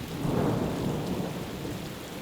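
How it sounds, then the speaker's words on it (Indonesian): A violent hailstorm with thunder sounds as a dense, heavy roar of falling stones and low rumbling, steady and loud throughout a short stretch. "Kemudian Allah menurunkan hujan batu yang sangat hebat."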